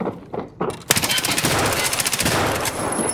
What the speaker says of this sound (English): I shot him in the body twice